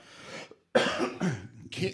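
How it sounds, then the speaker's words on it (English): Several harsh, close coughs come in quick succession, separated by a brief silence. "I'm sorry about the coughing."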